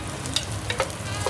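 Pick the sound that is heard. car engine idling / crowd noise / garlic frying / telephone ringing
garlic frying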